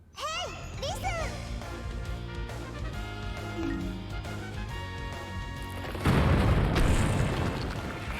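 A bomb goes off in The Legend of Zelda: Twilight Princess HD with a single heavy, rumbling boom after several seconds of tonal game sounds, its roar lingering to the end.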